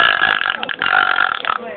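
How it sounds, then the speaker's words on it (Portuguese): A girl lets out a drawn-out, croaky burp lasting over a second, close to the mic and wavering in pitch before tapering off. "A indecisão do arroto."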